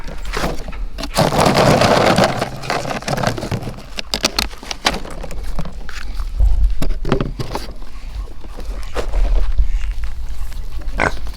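A potbelly pig chews and smacks noisily on treats up close, with crunching bursts and occasional grunts.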